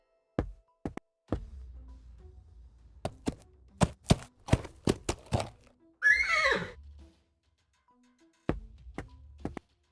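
A horse in the video game Willy Morgan and the Curse of Bone Town lets out one loud neigh, set between a string of sharp thunks and knocks.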